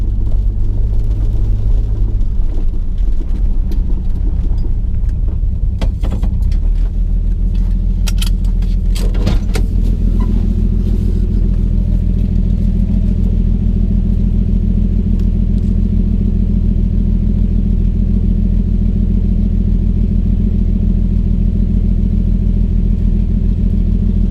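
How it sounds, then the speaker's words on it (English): A 1966 Valiant's engine rumbles steadily through a flabby muffler, a loud, deep and continuous drone that shifts slightly in tone partway through, with no talking. "Kind of like the Brooklyn muffler sound, but pretty flabby."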